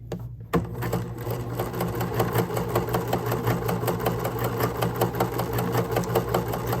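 A sewing machine runs steadily while stitching a hem along the presser foot guide, a close, fast, even mechanical whir with rapid needle ticks after a brief quiet start.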